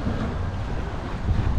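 Strong monsoon wind and heavy waves buffet a fishing boat out at sea, a steady loud rumbling roar of wind gusts and water sloshing that continues without pause.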